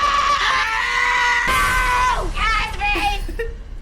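A person lets out a long, loud, strained scream that breaks into shorter wavering shrieks before trailing off.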